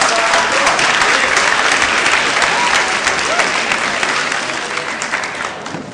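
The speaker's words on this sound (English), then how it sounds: "Give that a round of applause." A large audience at an evening community event claps steadily in dense, continuous applause that holds for several seconds and eases slightly toward the end.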